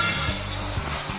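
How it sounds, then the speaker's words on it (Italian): Risotto rice toasts dry in a very hot pan, giving a loud, close, continuous sizzle and hiss with soft stirring scrapes and no voices. "Adesso che la padella è bella calda, cominciamo a far tostare il nostro risotto"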